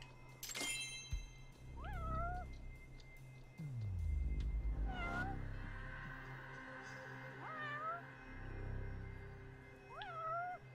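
Several spaced meows from a cat in a video game, each short and distinct, mixed with low rumbling game sounds and a sweeping thud partway through.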